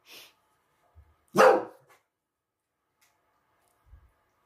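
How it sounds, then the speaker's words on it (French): A pet dog indoors gives one short, sharp bark in an otherwise quiet room, with a couple of faint small noises before and after it. "c'était Onyx qui aboyait."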